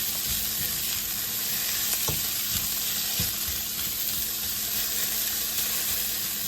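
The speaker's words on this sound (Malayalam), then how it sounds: "ഇത് നന്നായിട്ട് നല്ല ഹൈ ഫ്ലെയിമിൽ തന്നെ ഇളക്കി കൊടുത്ത് നല്ലപോലെ ചൂടാക്കിയെടുക്കണം" Bitter gourd stir-frying in a pan on a high flame, a steady close sizzle and hiss broken by occasional scraping strokes of the spoon, with no talking.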